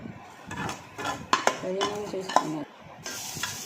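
Wheat semolina being roasted in ghee in a pan, with a spoon scraping and clinking against the metal in an uneven rhythm over a soft sizzle, close and fairly quiet.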